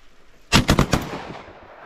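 A quick volley of four or five shotgun blasts rings out during a duck hunt, loud and sharp in an irregular burst with a fading outdoor tail, no voices.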